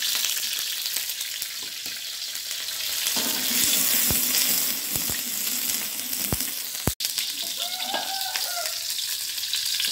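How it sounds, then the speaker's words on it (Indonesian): Onions sautéing in a pan for a spinach dish, a steady close sizzle with a few sharp utensil knocks and clatters, then a brief bright scraping squeal near the end; no one talks. "Tumis bawang terlebih dahulu."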